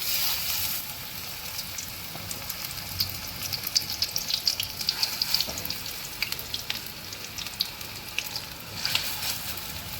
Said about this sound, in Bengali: এবার এগুলো ভেজে নেবো বড় বড় আকারে ভেজে নেব।